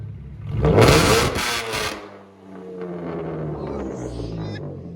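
A 2014 Chevy Camaro V6 with true dual straight-pipe exhaust revs hard to about 4,000 RPM, a loud raspy roar that swells, cuts off, then settles into a steady rumbling idle nearby.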